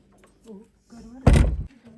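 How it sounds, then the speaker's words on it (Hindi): A house door is shut late at night, one short, solid thud with a brief rattle following a few soft spoken words. "दरवाजा भी कर दूँ बंद?"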